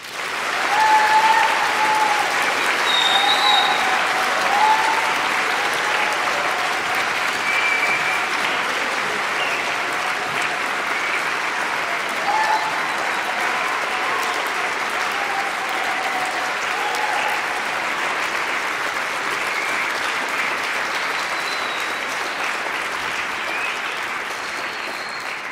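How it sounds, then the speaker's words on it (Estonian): An audience applauds at a boys' choir's 20th anniversary concert, with sustained, dense clapping filling the hall and a few faint voices under it. "Aplaus paluks!"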